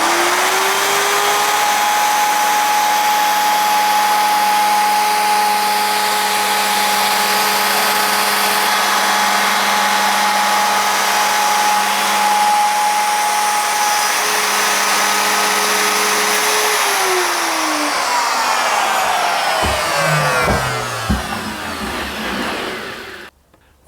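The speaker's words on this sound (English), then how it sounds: "I've got the 18mm diameter cutter in the 1/2 inch router, and I'm going to run the back edge of the router along here to create this nice straight" A half-inch router fitted with an 18mm cutter whines loudly and steadily as it cuts a straight groove, holding a constant pitch for most of the time before spinning down near the end, with no talk.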